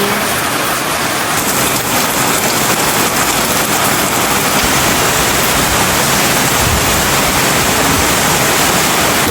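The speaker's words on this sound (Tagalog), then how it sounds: "Lumakas na po lalo ang ulan." Dense, steady roar of heavy rain pouring down continuously, loud and close, with a faint high whine running through it.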